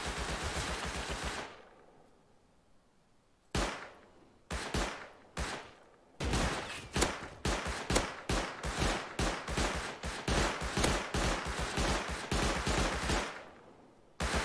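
Rapid bursts of close-range gunfire in a first-person multiplayer video game, a matched-fire-rate weapon firing in repeated loud automatic strings with short gaps, one early burst then sustained fire.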